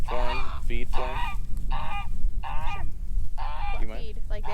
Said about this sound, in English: save us from the geese